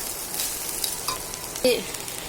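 Chow mein stir-fried in a pan for children, a steady soft sizzle under occasional scraping and tossing sounds, with one louder clatter near the end.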